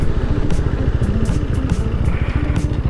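A KTM motorcycle ridden through city streets in Tampa, its engine a steady, loud, rapid thrum close by with continuous clattering mechanical texture throughout.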